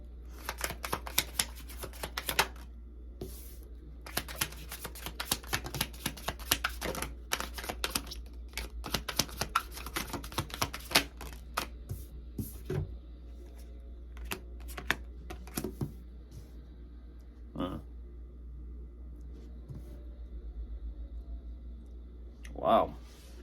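Tarot cards are handled and shuffled at close range. Quiet, irregular riffling clicks and soft slaps come in bursts, with pauses and a louder knock near the end.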